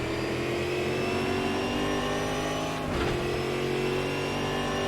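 Brazilian StockCar race cars at Goiania circuit roar steadily at high revs under braking, a loud continuous engine drone with a brief dip and swell as a car passes close by.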